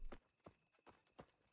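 Horse hooves clip-clop in a medieval-world video game (Kingdom Come Deliverance), four distinct, even, moderately close steps over a quiet ambient background.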